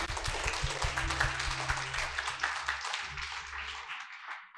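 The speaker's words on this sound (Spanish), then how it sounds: "Dense un fuerte aplauso." An audience at a Spanish-language leadership talk breaks into dense, sustained clapping over a low musical tone, loud at first and then gradually thinning and fading.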